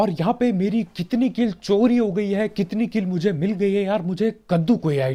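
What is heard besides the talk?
None of the usual background noises is heard.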